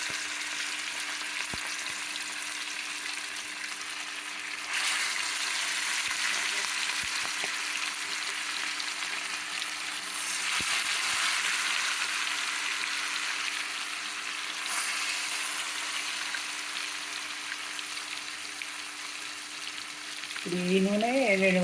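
Fish frying in hot oil for an Andhra-style fry, a steady close sizzle and crackle that swells in waves with occasional light utensil taps, and a faint tonal hum underneath.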